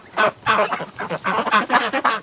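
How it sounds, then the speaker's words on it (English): Farmyard ducks near a barn give a rapid run of loud, close quacks and honking calls in an uneven rhythm, about eight bursts with short gaps between. "go into the barn, you silly duck"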